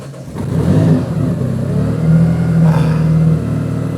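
Engine of a car fitted with an R35-based powertrain cranking and firing for the first time, then settling into a steady, loud idle with a deep, uneven rumble close by, no voices over it.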